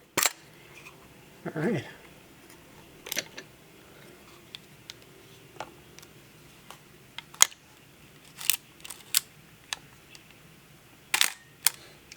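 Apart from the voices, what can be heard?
Leica R4 film camera shutter firing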